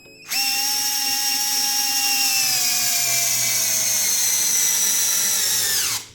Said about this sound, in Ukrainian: Такий малесенький, а 35-го саморіза по дереву загнав в пенька, як має бути.